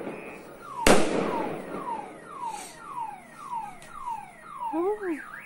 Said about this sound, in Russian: Смотрите, у нас салют прям в окно.